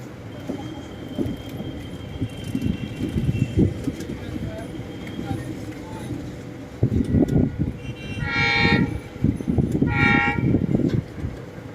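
The Salasar Express rolls along a rail line in Rajasthan, a steady rumble of wheels with someone talking over it, then two loud horn blasts sound near the end.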